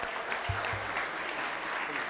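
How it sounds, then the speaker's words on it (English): Continuous crowd applause at a school board meeting for a middle school boys' basketball championship team, steady and moderately loud, with a short low thump near the start. "Let's give them another round of applause."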